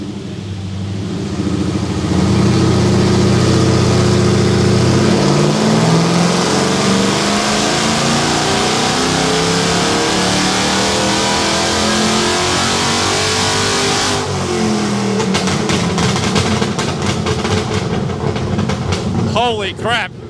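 A supercharged 5-litre car, a Ford Barra, revving hard on a dyno at a dyno day, with a loud sustained engine roar that climbs steadily in pitch, then cuts and crackles with rapid pops near the end.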